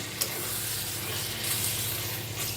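Vegetables being stirred as they cook in a hot pan, a continuous loud sizzle with a few scraping strokes, close up and without any talk.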